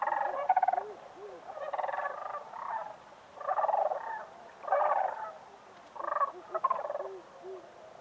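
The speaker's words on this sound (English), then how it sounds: "to the reptilian call of the crane" Several bursts of rattling, croaking crane calls come at irregular intervals against a quiet background, fairly near and clear with no voices.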